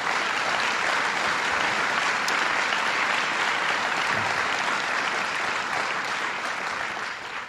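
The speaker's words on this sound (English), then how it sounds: "So let's give him another round of applause." Sustained, dense applause from a large audience at a regional sustainability conference, a thick steady roar of clapping that holds loud before easing slightly near the end.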